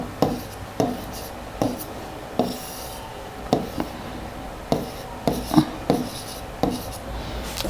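Marker or pen writes out a maths problem on a board or paper, steady scratchy strokes broken by regular sharp taps at each new digit or symbol, close and moderately loud with no voices.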